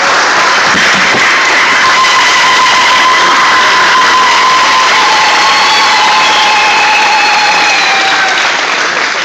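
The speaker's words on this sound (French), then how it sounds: "On applaudit" Audience at a consul's speech event applauding and cheering, loud sustained clapping with whistles and calls throughout, close and full, no talk over it.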